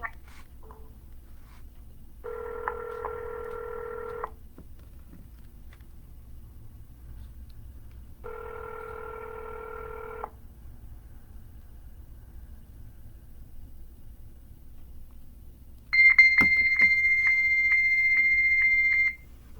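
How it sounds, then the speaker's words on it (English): Fax machine tones sound over a phone call: two long buzzing calling tones separated by a pause, then a sharp, higher-pitched sustained answer tone, all heard alone over a faint line hiss. "Fax machine."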